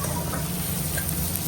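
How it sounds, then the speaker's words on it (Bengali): Chopped onions fry in oil with a little salt in a pan, giving a steady, close sizzle with faint crackling and no voices over it. "আর একটু ভাজবো, যাতে সাদা না থাকে, একটু গোল্ডেন গোল্ডেন করে ভাজবো"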